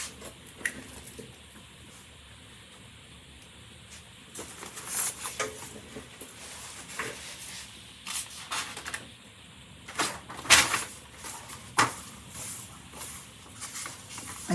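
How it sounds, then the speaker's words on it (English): Rain falling outside in Dublin, heard as a soft irregular patter with scattered sharper drips and splashes, fairly faint and uneven, with no voices. "Yes, it's raining in Dublin. Sorry about the noise."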